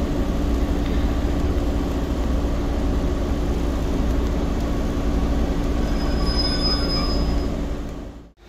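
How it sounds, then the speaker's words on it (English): A train rumbles past close by in Maltby, Yorkshire, steady and loud, with wheels squealing high near the end before the noise cuts off abruptly. "there goes the train"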